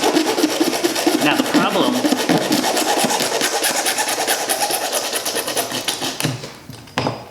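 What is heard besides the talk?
hacksaw cutting Corsair Hydro X pipe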